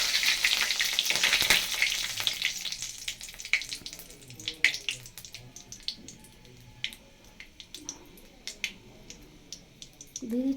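Bay leaf, five-spice seeds and green and dried chillies fry in hot oil, a hiss that is loud at first and then fades into scattered crackles and pops, with a voice speaking at intervals.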